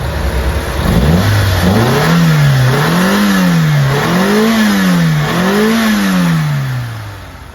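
Mitsubishi Lancer 1.6 manual with a cable throttle, engine revved in a series of about five rising and falling blips over a steady idle, close and loud, with no talking.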